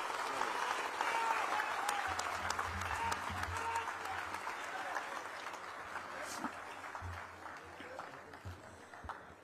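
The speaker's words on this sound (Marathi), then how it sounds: "जोरदार टाळ्या वाजवा" An audience at a book launch ceremony in a hall claps loudly in a sustained, thick burst of applause that slowly tapers, with faint voices underneath.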